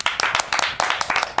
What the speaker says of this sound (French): qu'avec moi, on applaudisse nos super chroniqueurs